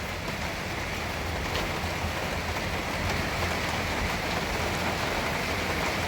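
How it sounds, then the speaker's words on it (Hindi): Heavy, continuous rain patters and hisses all around, a dense, even wash of falling drops with no voices. "बारिश की बूंदों की आवाज़ें हैं"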